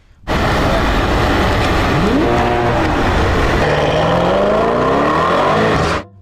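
Toy Lamborghini race car giving off a loud synthetic engine-revving sound effect with rising and falling pitch sweeps, running steadily for about six seconds before cutting off abruptly.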